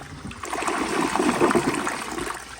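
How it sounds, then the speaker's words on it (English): An American Standard Townsend Vormax toilet flushing from a nearly full tank: a steady rushing, gurgling swirl of water that runs close and continuous, with no talk. "So the tank is almost full, and here is a flush."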